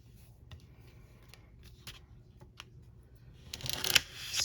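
Nail polish scraped off a metal stamping plate for pumpkin nail art: a few soft, scratchy strokes up close, ending in a louder, rougher burst of rapid scraping.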